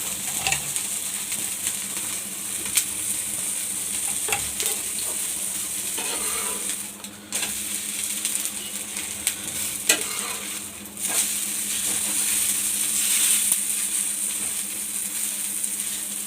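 An uttapam fries on a pan over a medium gas flame, a soft continuous sizzle with occasional light scrapes and taps of a spatula.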